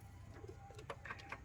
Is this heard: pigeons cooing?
yes